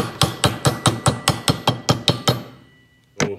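A hammer strikes a tight-fitting metal part of a Peerless 100 differential about ten times in a quick, steady rhythm, then a pause and one final blow, close and sharp.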